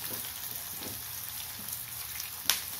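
Two large, coarsely chopped onions sautéing in hot oil for a coconut dal curry, giving a steady soft sizzle with a small sharp pop near the end.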